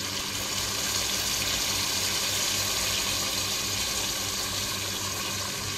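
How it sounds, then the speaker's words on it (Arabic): Hot water poured into a cooking pot over meat for Libyan pasta, a continuous gushing splash that runs steadily and close by from start to finish, with no talking. "بعد حركت اللحمة شوية في الخلطة، هأضيف قليل من الماء الساخن طبعا"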